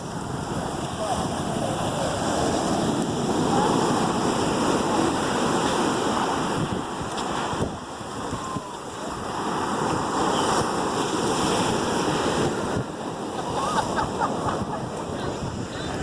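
Ocean waves breaking at an eroded beach near Bellows Air Force Station on Oahu, Hawaii, a steady loud rush of surf with gusting wind buffeting the microphone, easing slightly around the middle before surging again.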